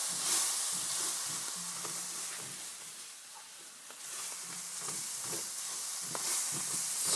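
Garlic sautéing in a one-pot salmon and asparagus dish makes a soft, continuous sizzle with intermittent scraping and stirring from a utensil against the pan, fairly quiet and without voices.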